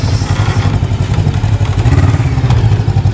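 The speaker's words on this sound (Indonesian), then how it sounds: "Pak Kapolres memasuki rakit guys dengan menggunakan motor" A motorcycle ridden onto a river ferry raft in Aceh Singkil gives a loud, close, steady engine rumble throughout.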